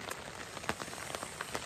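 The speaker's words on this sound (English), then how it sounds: "But as you can hear, the rain is just" Rain falls in the Alaska Range mountains, a dense, even patter with scattered louder drops tapping nearby, steady and fairly quiet with no voices.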